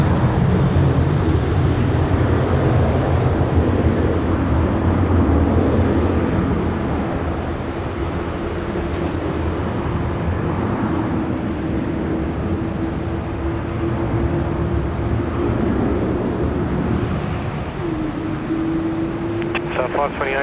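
Airliner taking off at night from runway 16 right at Sydney Airport, a steady distant jet roar running the whole time under talk and radio chatter, with a faint whine toward the end.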